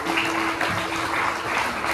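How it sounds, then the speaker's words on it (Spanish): A church congregation clapping during a sermon, a dense steady wash of many hands, loud and sustained throughout. "Le damos palmas al Señor en esta tarde."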